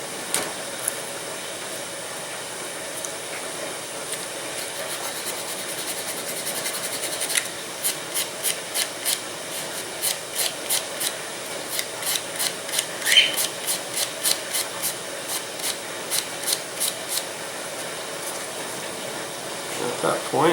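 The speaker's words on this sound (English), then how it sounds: "I'm going to strip these with some sandpaper" Sandpaper rubs along wooden strips for a model aircraft fuselage in a run of quick, regular rasping strokes that start after a quiet stretch, close and fairly loud.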